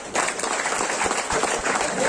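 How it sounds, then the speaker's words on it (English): Applause from an audience at a testimonial talk, a steady dense wash of clapping that holds at an even level for about two seconds. "Huge round of applause for it."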